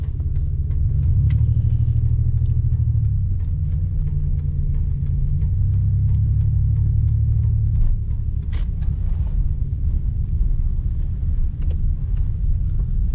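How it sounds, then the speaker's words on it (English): A car's engine struggles in snow with a cylinder misfire, giving a loud, steady low rumble with an uneven, sputtering pulse and no talking. "That sputtering that we saw, that was a cylinder misfire."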